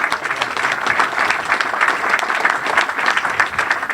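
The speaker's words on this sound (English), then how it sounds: "So one more round of applause, please." Audience at a Dons Trust special general meeting applauding, a steady dense wash of clapping from a sizeable crowd, sustained and fairly loud for the whole stretch.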